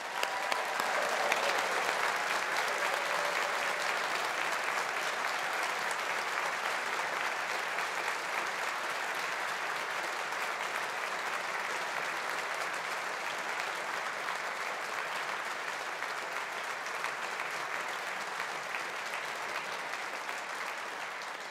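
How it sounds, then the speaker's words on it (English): An audience at a Faculty of Engineering graduation ceremony gives a long, steady round of applause, a dense wash of clapping that holds evenly for over twenty seconds without any voices. "Let's give them a big round of applause."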